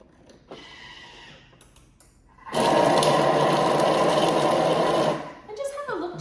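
A Thermomix chopping ham for fried rice, a loud steady whir that starts abruptly after quieter handling sounds, runs for a few seconds, then cuts off and winds down.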